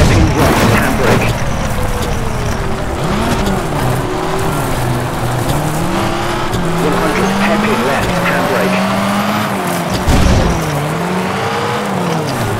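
A rally car in the WRC FIA World Rally Championship game on PS3 revs hard through a hairpin with a handbrake turn, its engine note rising and falling over tire skid noise, loud and near, with a heavy thump near 10 seconds.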